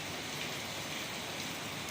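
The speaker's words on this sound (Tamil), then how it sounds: "மழை விட்டுற மாதிரி தெரில பெஞ்சினே தான் இருக்குது" Steady night rain falls at midnight in Velachery, Chennai, a dense even hiss of drops on surfaces with no voices, fairly soft and continuous throughout.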